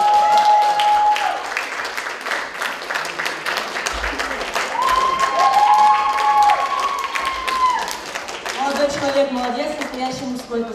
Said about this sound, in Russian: Аплодисменты, ребят.